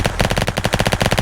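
Rapid automatic gunfire from the Roblox game Flag Wars, a loud, dense burst of evenly spaced shots fired in quick succession with no pause.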